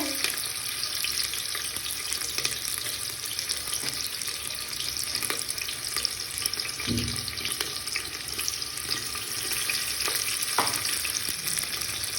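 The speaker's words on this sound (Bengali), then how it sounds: "এর মধ্যে পেঁয়াজ দেওয়া হচ্ছে" Onions frying in hot oil for Bengali mutton kosha, a steady broadband sizzle with faint stirring scrapes and a soft thump partway through, close and continuous with no talk.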